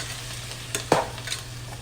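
Onions and Rotel are stirred in a cooking pan under a soft sizzle, with a few scraping strokes and one sharper clatter near the middle, quiet and close, with no talking.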